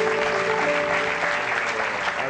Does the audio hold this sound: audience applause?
yes